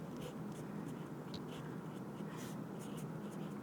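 Pen scratching across paper while working a class 10 quadratic equations word problem about two taps filling a tank, a steady close, faint rustle of strokes with no talk.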